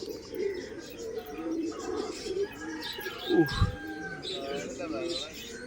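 Soft, repeated cooing of pigeons close by, mixed with a few chirps and faint voices in the background.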